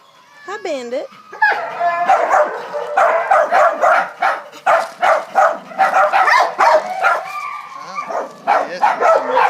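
A dog barks repeatedly at close range, short sharp woofs with a few whimpers and yips, while a person talks to it over and between the barks.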